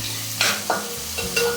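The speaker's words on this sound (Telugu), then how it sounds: "ఆయిల్లోనే ఎర్రగడ్డ వేయించుకోవాలి" Onions frying in oil for a dry fish and egg curry, sizzling steadily while a utensil stirs them, with several distinct scraping stirs spaced across the short, close, fairly loud clip and no voices.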